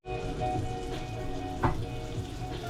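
Arborio rice browning for risotto in a pan over lowered heat, a steady close sizzle with a brief stir or scrape near the middle and another toward the end.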